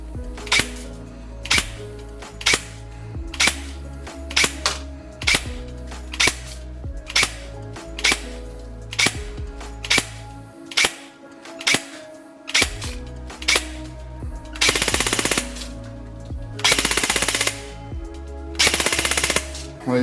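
Specna Arms SA-H12 One airsoft electric rifle, an HK416 Delta style with a Kestrel V2 Basic ETU, fired in a shooting test: loud, close, regular single shots, then three sustained full-auto bursts.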